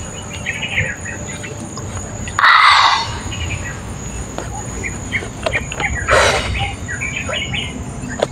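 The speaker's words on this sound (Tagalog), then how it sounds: "Yan o, may mga ibon doon, o" Birds call outdoors over a steady bed of insect chirping, with two louder bursts of calling standing out and scattered fainter chirps in between.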